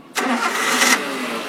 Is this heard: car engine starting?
yes